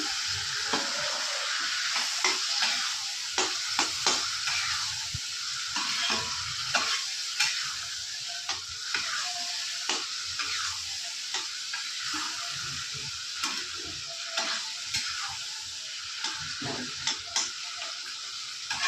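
Bengali spice masala for a fish-head and cabbage dish sizzles in a pan after a splash of water, with a spoon scraping and clicking through it in an uneven rhythm, close and steady, with no voices.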